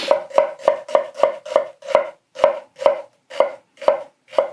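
A Hatsukokoro Kurokaze kitchen knife chops through a juicy onion on a board, about a dozen crisp, evenly spaced cuts at close range, each ending in a firm knock, slowing slightly toward the end.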